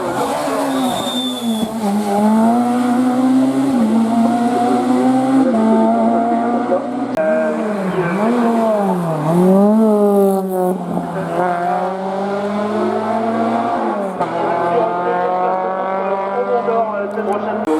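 A Honda Integra race car climbs a hill-climb course at Turckheim–Trois-Épis, its engine loud and steady as it revs up and down through the gears, with tyres squealing along the way.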